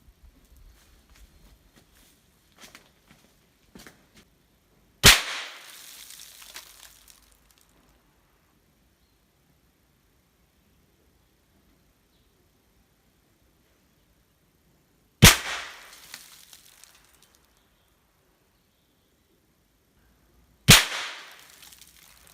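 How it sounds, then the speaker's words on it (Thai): Three sharp gunshots ring out at a 25-metre target range, spaced about ten and five seconds apart, each a loud crack with a short echoing tail amid quiet; a few faint handling clicks come first. "จะยิงด้วยกันทั้งหมด สามนัดนะครับ"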